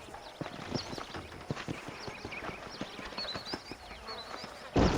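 Horse hooves clip-clop through Red Dead Redemption gameplay, a steady run of close, regular thuds with faint insect-like buzzing behind them. A louder burst cuts in at the very end.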